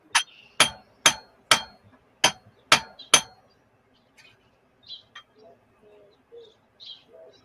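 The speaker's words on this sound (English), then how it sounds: "I hear hammering." Seven sharp, evenly spaced hammer strikes ring out in a quick series, then stop, leaving faint bird chirps and soft clinks outdoors near chickens.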